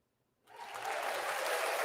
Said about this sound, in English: Should not be a delayed applause for that.